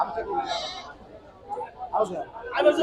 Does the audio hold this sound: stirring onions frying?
no